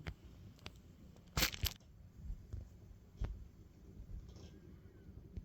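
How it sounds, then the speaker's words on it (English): New car headlights being unwrapped from their packaging, with quiet crinkling and rustling broken by a short, louder double tearing sound, heard up close without talking. "Now let's just unwrap these and we have a look."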